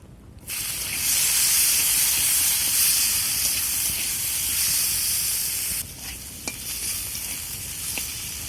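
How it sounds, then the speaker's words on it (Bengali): Potatoes and pumpkin fry in mustard oil in a pan with a loud, steady sizzle that drops slightly and turns more crackly partway through, with a few faint clinks and no talking. "কড়াতে আবার দিয়ে দিলাম সর্ষের তেল। এখন এই আলু আর কুমড়োগুলো ভেজে নিই।"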